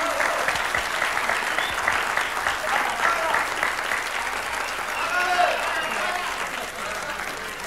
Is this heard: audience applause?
yes